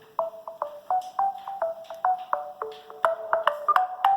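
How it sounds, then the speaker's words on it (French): A bright electronic ringtone from an Alcatel A3 XL phone plays a quick repeating melody of short, plinking tones, loud and close, with no talking over it. "Donc sonnerie de la carte SIM Bloom."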